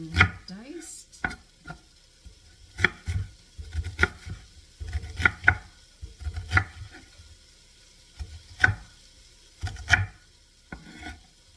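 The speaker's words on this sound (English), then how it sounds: "1 large onion diced." A large onion being diced on a board, sharp knife chops in irregular bursts with brief pauses, close and clear.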